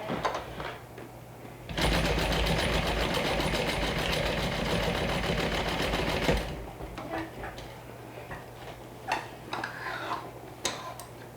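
A sewing machine stitching a fabric strap: a fast, steady mechanical rattle running for several seconds, framed by quieter ticks and handling clicks before and after.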